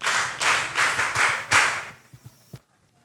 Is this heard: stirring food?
no